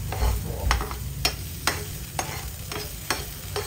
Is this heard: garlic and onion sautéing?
yes